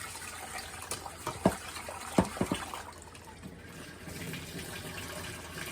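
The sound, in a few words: rinsing rice with water in a pot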